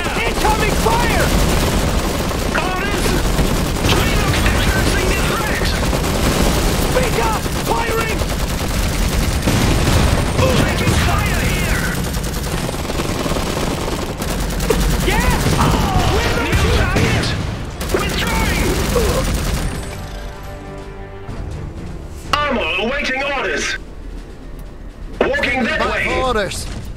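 Rapid gunfire and machine-gun bursts crackle through a World War II strategy video game battle, dense and continuous for most of the stretch, then thinning into scattered shots under game voice lines and a player talking.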